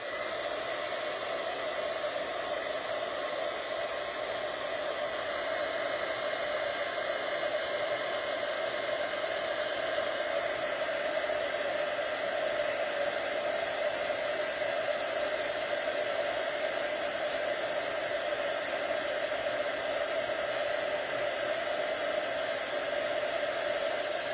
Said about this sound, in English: then I'm going to use my heat tool to emboss it. So it's going to be noisy for a minute